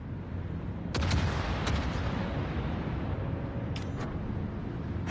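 Naval gunfire from a warship video game battle, with distant booming salvos over a constant rumbling background, a sharp report near one second and further shots around four seconds.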